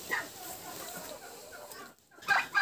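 A turkey hen brooding on a nest clucks softly and steadily in short, close calls, growing louder and sharper at the end, with no talk.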